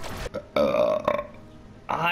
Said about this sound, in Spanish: Qué bonita gráfica hizo mi eructo.